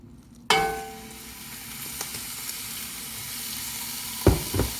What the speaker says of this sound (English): Adding our meat to a pot over medium to high heat.